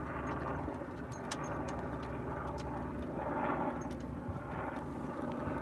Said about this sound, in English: Except for the noise of the helicopter flying over.